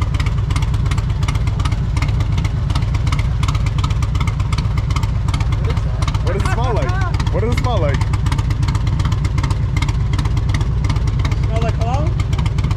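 Motorcycle engine idling at a bike rally, its exhaust note a steady low rumble running under people talking nearby throughout.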